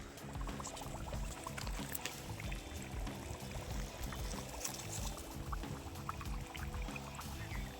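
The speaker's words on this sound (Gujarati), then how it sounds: "અત્યારે જે જમીન છે એની અંદર લાઈવ પાણી પરપોટા સાથે અત્યારે જઈ રહ્યું છે" Rainwater seeping down into the ground with bubbles makes a continuous soft rushing, pouring sound that stays fairly quiet and even throughout.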